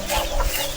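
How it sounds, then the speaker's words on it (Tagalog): Native chicks and chickens on a small farm cluck briefly at close range, with a soft murmur of farmyard background. "May chicks dito, yung native na mga chicks"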